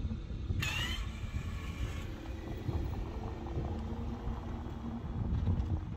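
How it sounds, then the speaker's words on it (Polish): A Ferrari SF90 Stradale, a 1000 hp hybrid with a 4.0 V8, starts in electric hybrid mode with barely any noise. Only a faint low hum and a soft whir are heard, with no engine roar. "Tak brzmi auto, jak odpali na hybrydzie."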